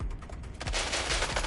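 Rapid automatic gunfire in the video game Watch Dogs: Legion, a dense burst of shots rattling loudly for a second and a half.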